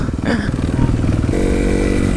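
An enduro dirt bike rides along a trail, its engine buzzing loud and close with shifting pitch, ending in a sustained higher revving drone, with clattering rattles over the motor.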